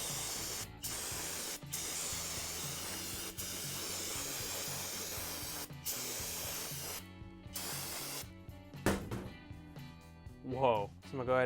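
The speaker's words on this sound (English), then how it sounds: "Now I'm gonna spray the cam off." A long, close hiss of aerosol cleaner sprayed over the camshaft of a 1776cc VW engine build, continuous for several seconds, then trailing into scattered handling noises and shorter bursts.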